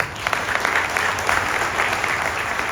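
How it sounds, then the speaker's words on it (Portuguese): Steady, dense applause from a seated audience at an MDB party political event in Belo Horizonte, continuing evenly at moderate loudness throughout with no break and no voices. "mais uma salva de palmas"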